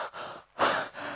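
A voice imitates panting breath while telling a story from a Class 12 English chapter, giving a few quick breathy huffs with a louder gasp in the middle, close and fairly quiet, with no words spoken.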